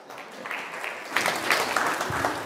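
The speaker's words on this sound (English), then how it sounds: "Well, don't clap yet." Church congregation clapping during a sermon, a light patter of scattered claps that swells into fuller, louder applause partway through, with no talk over it.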